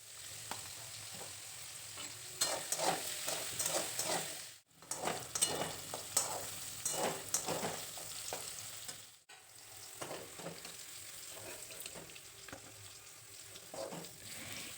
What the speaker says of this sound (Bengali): তারপর পটলগুলোকে ভেজে নেব অল্প পরিমাণ লবণ দিয়ে।